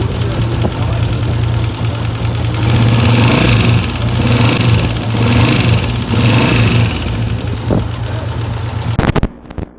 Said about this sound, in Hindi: इंजन में से इतनी अजीब किस्म की आवाज़ें आ रही थी